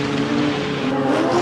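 A drift car at a D1NZ Pro-Championship round at Manfeild holds a loud, sustained engine howl under throttle, the pitch rising slightly as it accelerates, with no talk over it.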